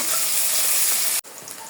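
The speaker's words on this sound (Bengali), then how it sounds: "তেল গরম হয়ে গেছে পেঁয়াজ দিয়ে দেব" Onions dropped into hot oil, fried only lightly to soften, for a broccoli and prawn dish; a steady close sizzle fills the clip, briefly cut off near the end before resuming more softly.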